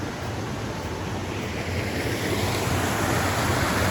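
Steady rushing water of the Guadalupe River fills the whole clip, a dense continuous wash with a slight windy quality and no voices.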